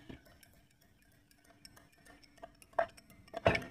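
Spoon stirring honey into a homemade natural cough syrup, soft clinks and scrapes against a cup or bowl, faint at first and growing into a few louder taps near the end.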